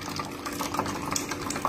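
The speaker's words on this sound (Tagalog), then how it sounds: "Lagay natin dito para bumulpak yung tubig." Water gushing through a straw, a steady bubbling gurgle with small splashy pops, close and continuous, with no voices.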